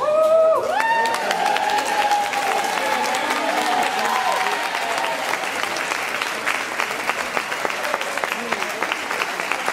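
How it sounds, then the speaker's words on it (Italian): A crowd applauding as dancers come on for a bachata-tango performance, a loud sustained round of clapping with some cheering, while music with a sliding tone plays at the start and a voice is heard briefly. "voglio un altro altrettanto applauso per le ragazze che entrano ora"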